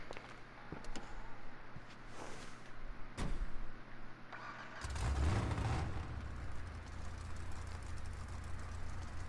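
A car door shuts, then a GTA 5 video game car engine cranks and fires up in a cold start with a loud rumbling start that settles into a steady, throaty idle.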